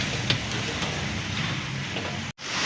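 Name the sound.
heavy rain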